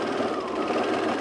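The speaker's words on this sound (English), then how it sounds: "Let my serger flatten the bottom one out, and then I just go manage the top" A serger overlocks a seam on a Henley shirt, giving off a steady, close mechanical whir with a rapid rhythmic stitching hum and no pauses.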